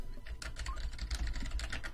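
Fast, close clattering keystrokes on a computer keyboard in a continuous uneven burst, played alone without talk.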